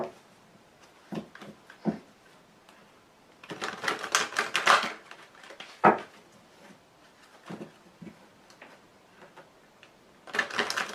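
Tarot cards being shuffled and cut by hand, heard as quick papery riffles and taps in short bursts with pauses between them, clearest in a dense flurry midway and again at the end.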